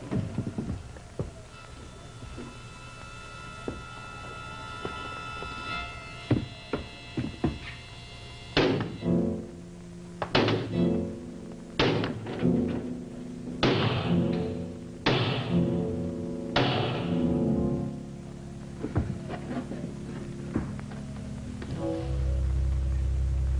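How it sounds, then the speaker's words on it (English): Heavy blows hammer on a locked door as a radio drama sound effect. Scattered thuds give way to a run of loud, irregular strikes, then the knocking trails off. "Well, hammer on the lock."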